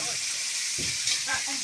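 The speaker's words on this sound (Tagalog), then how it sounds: "Na nagpiprito ng manok." Oil sizzles and hisses steadily as chicken fries over a wood fire, a constant crackling hiss with a few soft knocks and scrapes mixed in.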